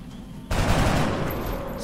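A burst of gunfire from a soldier's weapon in the turn-based strategy game XCom Enemy Within, Long War mod, kicking in abruptly and ringing out loud and sustained with a rattling, fusillade-like texture.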